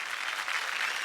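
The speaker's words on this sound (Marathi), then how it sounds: "प्रगती ताईंसाठी एकदा जोरदार टाळ्या होऊन जाऊ देत" Audience at a televised women's game show applauds a contestant, a moderate, even patter of many hands clapping with no talk on top.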